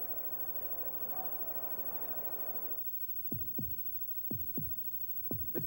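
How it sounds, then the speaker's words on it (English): Heartbeat in a Chevrolet Corvette commercial during a 1986 baseball broadcast: after a steady hum fades, about seven low thumps come in lub-dub pairs, loud and close, with no talk. "Listen to the heartbeat."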